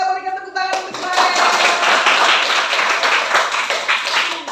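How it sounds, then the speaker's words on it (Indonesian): A class applauds Joel during a teaching session, opening with a brief sustained tone before a burst of lively, close hand claps that carries on steadily to the end. "Kita berikan tepuk tangan untuk Joel."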